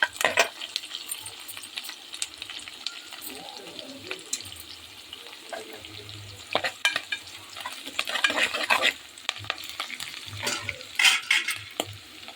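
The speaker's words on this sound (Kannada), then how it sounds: "ಈರುಳ್ಳಿ, ಹಸಿಮೆಣಸಿನಕಾಯಿ, ಕರಿಬೇವು ಸೊಪ್ಪು ಎಲ್ಲ ಚೆನ್ನಾಗಿ ಬಾಚಿ ಫ್ರೈ ಮಾಡ್ತಾಯಿದ್ದೀನಿ" Onion, green chilli and curry leaves frying in a pan, a soft sizzle with scattered stirring scrapes and clinks, fairly close and moderately quiet.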